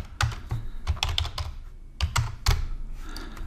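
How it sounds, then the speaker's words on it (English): Rapid clicking keystrokes on a computer keyboard while a formula is entered into an Excel 2019 spreadsheet, with close, uneven bursts of taps and short pauses and no talking. "let's type it in just to make it look better"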